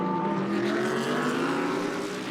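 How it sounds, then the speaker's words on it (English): GT race cars, a Lamborghini Huracan and a BMW, roar along the Red Bull Ring circuit, a loud sustained engine drone with shifting pitch that holds throughout without any talk. "So the Lamborghini Huracan with Adrian Zaug at the helm, desperately trying to get past the BMW of Claudia Hürtgen."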